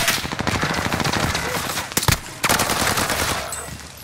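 Rapid automatic gunfire in Call of Duty: Modern Warfare, a loud, dense burst of repeated shots with a brief break near the middle, then further shots.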